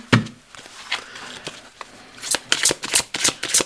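Tarot cards being shuffled by hand, a few scattered soft taps and riffles at first, then a quick burst of crisp, close card riffling toward the end, with no talking.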